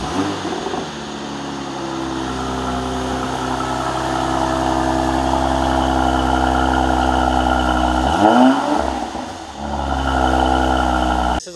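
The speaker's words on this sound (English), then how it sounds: "cold start up on a 2017 Mercedes AMG GLC 43 coupe" A 2017 Mercedes-AMG GLC 43 coupe engine cold-starts and settles into a loud, steady high idle, with a brief dip and swell in revs partway through, heard close with no talk.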